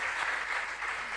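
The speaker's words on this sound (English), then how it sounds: "deserves the round of applause" Audience applauding steadily at a regional junior science and maths quiz contest in the Ashanti Region, a dense, even wash of clapping that fills the room without breaks.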